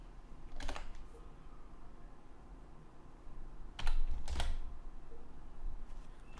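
Computer keyboard keys clatter in two short bursts of quick typing, close and fairly quiet, with near silence between them.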